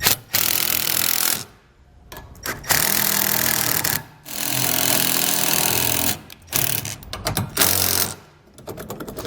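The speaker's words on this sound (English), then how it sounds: "And then we can just run the self-tappers into our mounting bracket that comes on our base plate." Self-tapping screws driven into a metal mounting bracket on a Roadmaster base plate, a loud steady motorized whir in several long bursts separated by short pauses, with no talk.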